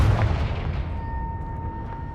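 A Confringo blasting spell detonates in Hogwarts Legacy: one deep, booming burst at the start that rumbles on and slowly fades over two seconds, with no other sounds.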